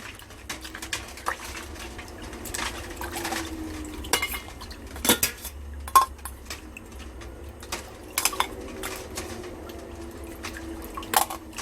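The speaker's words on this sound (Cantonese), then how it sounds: "我哋擺咗落盆水度，我哋約略清洗佢一次先" Water sloshing and dripping in a basin as small fresh abalone are rinsed, with scattered clinks and knocks of the shells being handled, close by, no voices.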